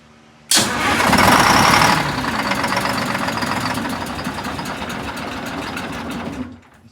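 A Detroit Diesel 6V71 in an MCI 5C bus cranks and catches with a loud, sudden start, then settles into a rough, rhythmic diesel clatter close by before cutting off near the end, with no talking.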